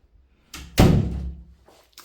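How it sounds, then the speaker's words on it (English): A bathroom door in a Fortuna-style villa on Camposol swings and shuts with a single close, heavy thunk, a brief rustle of movement just before it and a short tail of room sound after. "Just going to shut the door for a minute."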